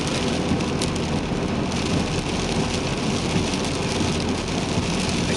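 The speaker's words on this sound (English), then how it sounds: "You guys probably can't even hear me because of the rain" Heavy rain drums steadily on a car while driving, a dense, continuous wash of noise that stays loud and unbroken throughout with no voices.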